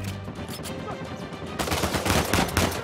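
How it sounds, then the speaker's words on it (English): Pistol and other gunshots in Uncharted 4 during a firefight, a rapid string of cracks that grows denser and louder in the second half, with faint talk mixed in. "Oh, I have two bullets left. Pistol time."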